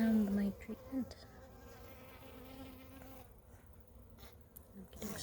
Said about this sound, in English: there are the bees around the mite treatment.